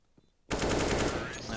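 A USP pistol fires in Counter-Strike: Global Offensive on Dust2, a sudden loud burst of rapid gunfire that cuts in after a brief near-silence and sustains to the end, with a voice faintly present.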